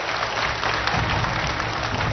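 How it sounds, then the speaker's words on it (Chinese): Studio audience applauding to welcome a guest speaker onto a lecture-hall stage, a dense steady wash of clapping that fills the whole stretch at even loudness with no talk over it. "让我们掌声请出我们的演讲嘉宾"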